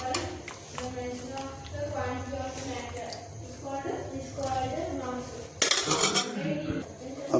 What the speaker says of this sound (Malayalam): അപ്പോൾ അത് നേരെ കുക്കറിൻ്റെ അകത്തേക്ക് ചിക്കൻ്റെ കൂടെ ഒന്ന് മിക്സ് ചെയ്യട്ടെ.